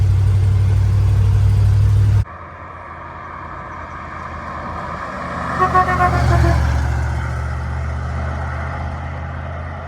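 A 1967 Ford F100 truck, abandoned for 20 years, driving on a road. A loud engine roar cuts off abruptly, then a lower steady drone continues with a rising, wavering tone partway through.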